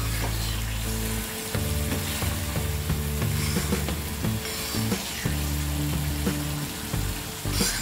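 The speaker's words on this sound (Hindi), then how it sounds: "हमने 5 मिनट तक लो फ्लेम में टैमरिंड पल्प को कुक कर लिया है।" Tamarind pulp cooking in oil over a low flame for Andhra-style amla pickle, giving a steady close sizzle of frying with occasional scraping and stirring clicks throughout.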